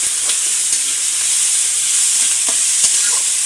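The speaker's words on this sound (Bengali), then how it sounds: "এরপরে দিয়ে দেবো শুকনো মরিচ। দিয়ে কিন্তু এগুলো আস্ত জালে ভেজে দিতে হবে" Whole dried red chilies frying on low heat in a pan give a steady, close sizzle, with a few soft stirring knocks and small pops scattered through it.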